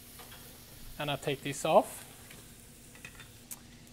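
Sausage and onions sizzle steadily in a frying pan at close range, with a short burst of scraping and clattering as the food is stirred, while a person speaks briefly.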